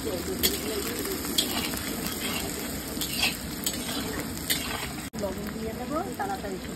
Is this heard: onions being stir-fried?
yes